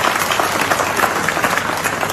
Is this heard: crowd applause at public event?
yes